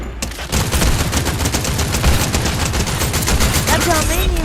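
Rapid bursts of automatic gunfire in a video game crackle continuously and loudly, with a brief electronic tone near the end.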